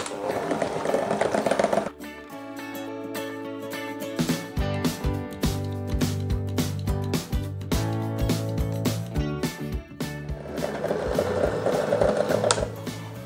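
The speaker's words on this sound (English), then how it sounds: "And using our hand mixer," A handheld electric mixer creams cream cheese with egg, sugar and vanilla, its whirring motor loud at the start and end, with a tonal musical passage filling the middle.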